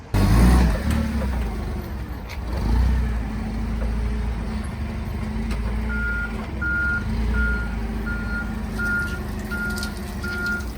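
A forklift reverses with a diesel engine rumbling close by. About halfway through, its backup alarm begins regular, evenly spaced beeps that continue over the engine noise.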